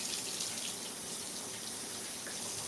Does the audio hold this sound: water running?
yes